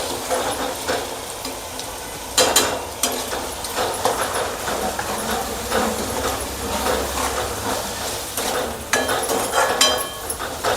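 Spoon stirring a tomato masala with chilli powder, turmeric and salt in a pan for a dried-shrimp chutney, giving a steady close sizzle with soft scraping strokes and a few louder bursts, no voices.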